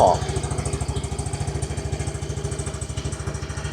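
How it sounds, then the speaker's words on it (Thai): A 2015 Yamaha Fino 115i scooter engine idling nearby, a steady low putter with a regular rhythmic pulse throughout. "อันนี้คือเสียงตอนเดินเบานะครับ"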